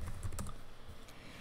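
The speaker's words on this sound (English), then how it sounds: "I'm going to type here in the search bar while I still have elements selected" Computer keyboard keys tapped during a search, a short close burst of several quick keystrokes at a low level over steady room hiss.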